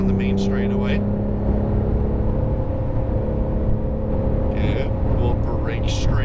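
A Porsche 911 GT3 holds one gear at full throttle down a track's main straight, a steady engine drone with a constant pitch running the whole time, loud and close, with wind and cabin noise and some brief higher bursts.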